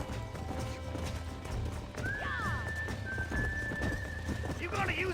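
Horses in the Red Dead Redemption video game, with steady galloping hoofbeats throughout and a loud, drawn-out neigh rising midway, then another whinny near the end, under voices talking.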